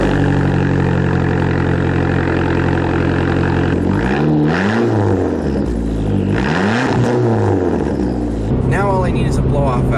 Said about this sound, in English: that turbo up there is really the main sound